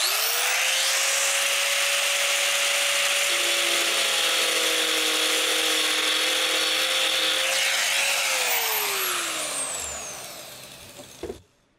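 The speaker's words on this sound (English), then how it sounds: "go to a grinder with a little 4-inch cutoff wheel" An angle grinder fitted with a small 4-inch cutoff wheel cuts through material for a DIY raised garden bed, a loud, sustained high whine with a steady pitch that drops as it spins down at the end.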